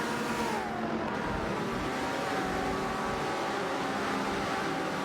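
Race car engines from a video game, a BMW 3.0 CSL and an Alpine A110 1600, drone continuously with rising and falling engine tones layered together, steady and fairly loud with no voices.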